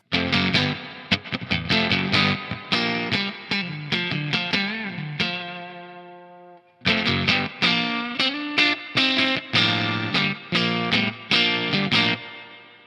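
Heavily distorted electric guitar chords through a JPTRFX Kaleidoscope reverb pedal with speaker saturation ring out with a lush reverb tail, pausing on a long sustained note before another rhythmic burst of crunchy strums.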